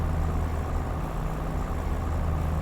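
A 1960s truck engine idles with a steady, low, tractor-like rumble, close and unchanging throughout, with no talking.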